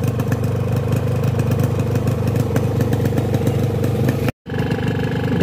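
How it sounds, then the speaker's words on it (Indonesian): A Yamaha RX King motorcycle engine run with carbon cleaner idles loud and close with a rough, clattering note, holding steady throughout apart from one very brief dropout near the end. "Dan suaranya pun dia lebih berisik teman-teman, suara mesin tuh lebih kasar sedikit."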